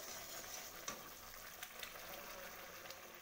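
Spice masala for a potato, cauliflower and paneer sesame curry sautéing in oil, a steady soft sizzle and bubbling with a few faint stirring scrapes, fairly quiet throughout.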